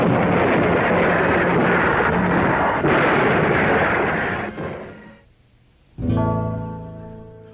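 Naval guns fire at night in a dense, sustained barrage of heavy booming rumble that drops away into near silence before another loud blast erupts and rings out.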